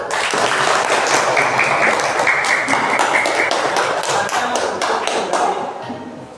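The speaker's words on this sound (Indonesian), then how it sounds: "Tepuk tangan untuk kelompok 1" Classmates clap for the first group in a classroom, a dense, steady patter of many hands holding for several seconds and easing off at the end.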